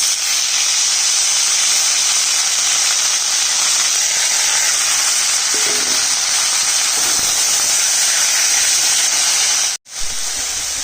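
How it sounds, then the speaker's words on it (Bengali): Greens are tipped into a pan of onion and garlic fried until reddish, and a loud, continuous sizzle follows. The hiss stays broad and steady at close range, with a few light clinks, then cuts off abruptly near the end. "পেঁয়াজটা একটু লাল করে ভাজা হয়ে গেছে এবার শাকটা দিয়ে দিচ্ছি"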